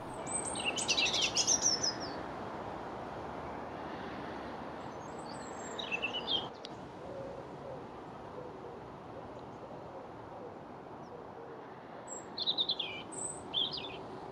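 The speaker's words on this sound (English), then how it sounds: "The mournful winter song of the robin" A robin sings its mournful winter song outdoors in Cornish autumn countryside: thin high warbling phrases in short bursts, well spaced, over a steady bed of wind and distant rumble.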